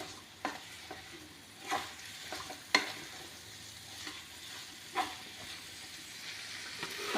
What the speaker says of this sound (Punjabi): ਆਪਾਂ ਜੀ ਜਿਹੜੀ ਦੇਗੀ ਮਿਰਚ ਹੈ ਜੀ ਇਹਨੂੰ ਵੀ ਚੰਗੀ ਤਰ੍ਹਾਂ ਮਿਕਸ ਕਰ ਦਾਂਗੇ